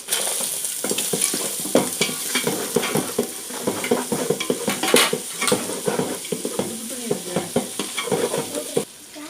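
Onions for mutton fried rice frying in a pan, a busy sizzle under dense clatter and scraping of a utensil stirring against the metal, near and continuous.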